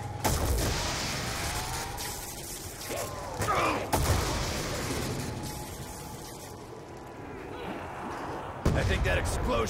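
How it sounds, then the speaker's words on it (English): Explosions in the zombie shooter game Zombie Origins: sharp, heavy blasts strike at the start, midway and near the end, each followed by rumbling decay, with crackling, gunfire-like bursts and other game sounds in between. "I think that explosion took him down for good. No one's walking away from that blast."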